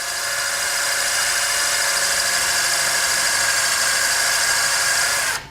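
A drill bit bores into a wheel rim under light pressure, giving a steady high-pitched whine and grind that holds constant for several seconds before cutting off abruptly at the end.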